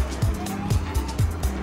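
Rocket League match, four versus four, with many cars boosting and skidding: a loud engine drone with rhythmic tire squeals and thuds repeating about every quarter second, busy and chaotic.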